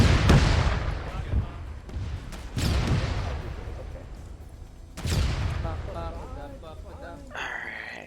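In a video game, an anti-tank rocket launches and explodes, heard as three heavy booms spaced a few seconds apart, each followed by rumbling decay.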